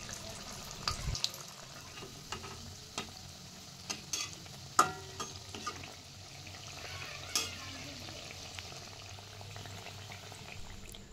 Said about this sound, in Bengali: এবার বড়াগুলো আমি একটা একটা করে তেলের মধ্যে ছেড়ে দিচ্ছি।